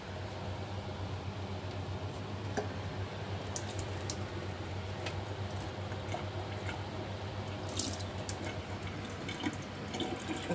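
Water is poured into a beaten egg mixture for steamed eggs, a continuous gentle liquid trickle over a steady low kitchen hum, with faint clinks now and then and no voices.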